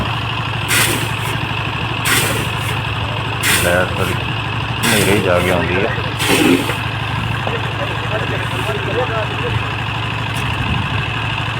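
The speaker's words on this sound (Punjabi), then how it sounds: "ਮਤਲਬ ਕਿ ਜਨਰੇਟਰ ਚੱਲਦਾ ਰਹਿੰਦਾ" A generator runs at night at a farm grain market, a steady loud engine hum with a constant low drone throughout while people talk nearby in short bursts.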